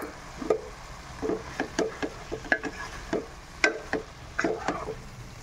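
Potatoes and watered-down poppy seed paste stirred in a pan, a spoon scraping and tapping the pan in an uneven rhythm of soft knocks over a faint background sizzle.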